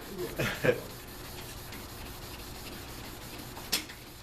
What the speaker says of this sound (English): You stay in one direction, just like your normal sanding.